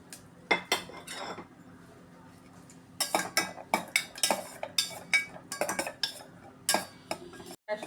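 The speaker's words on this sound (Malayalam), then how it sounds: "പരിപ്പും മുന്തിരി വറുത്തെടുക്കാം." Cashews and raisins roast in ghee for semiya payasam while a spoon scrapes and clinks against the metal pan in quick bursts of sharp taps, after a quieter stretch of gentle sizzling.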